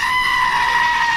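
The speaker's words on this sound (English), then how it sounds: "Listen to that goat!" A goat bleats in one long, strained, wavering cry from a played recording, loud and steady for its whole length, with no talk over it.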